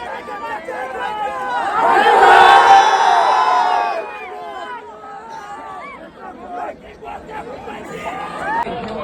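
A crowd at a bullock cart race, with spectators' voices swelling into a loud burst of cheering and shouting before settling back into excited chatter and calls.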